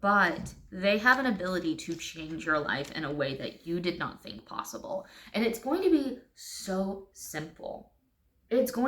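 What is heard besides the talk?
No distinct noise like a dog, phone or traffic.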